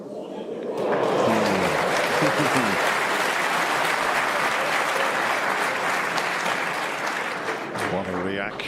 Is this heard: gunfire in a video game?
no